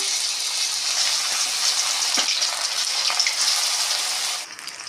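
Chicken 65 pieces dropped into hot coconut oil, giving a steady, loud broadband frying sizzle that runs continuously and drops off near the end, with no talking.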